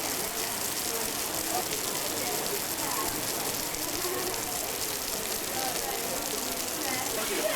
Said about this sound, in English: the realization that outdoors there is now a torrential rainstorm